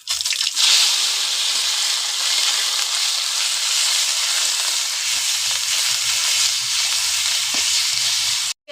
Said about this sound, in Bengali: তার মধ্যে দেবো বেটে রাখা পেঁয়াজ